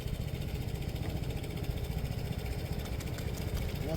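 A Piaggio Liberty iGet scooter idles close by in a smooth, steady, even putter that holds level with no revving.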